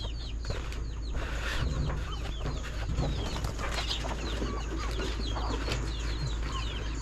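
Hens cluck repeatedly around a nest of eggs set for brooding, a steady chorus of short calls mixed with chirps and faint rustling over a constant low hum.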